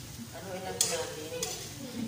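String beans sizzle and fry in a pan while being stirred, with a steady hiss and a few sharp scraping clinks of the utensil against the pan, close and moderately loud, with no talking.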